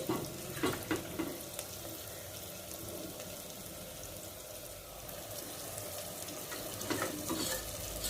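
Mutton sizzles in a pan with a steady crackling hiss and a few clattering stirs, close by and moderately quiet.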